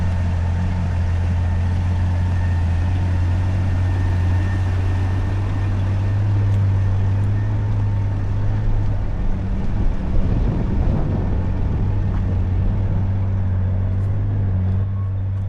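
A Caterpillar 18M3 motor grader engine runs steadily throughout, a deep low diesel drone with a constant hum building a haul road, close and loud, with slightly rougher loading near the middle.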